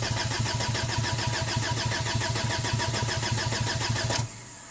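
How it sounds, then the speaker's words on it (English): A rebuilt VW TDI diesel engine cranks over with a fast, even rhythmic chug from the starter for about four seconds, then stops abruptly, leaving a quieter hum. "Let's just crank it over, see if we have an engine RPM."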